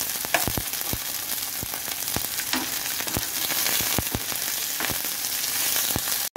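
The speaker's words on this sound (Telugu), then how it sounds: "తర్వాత దీన్ని ఫ్రై చేసుకోవాలి." Ingredients for wheat rava upma frying in a pan, a steady close sizzle with scattered sharp pops and crackles throughout, no voices.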